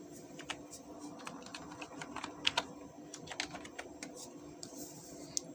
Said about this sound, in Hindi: हम यहाँ लिखेंगे पासवर्ड